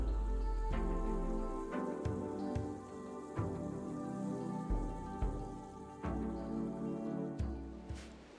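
Toxic rain falls steadily in the RimWorld video game, a continuous patter of raindrops on surfaces with low rumbling and periodic sharp accents, heard alone without talk.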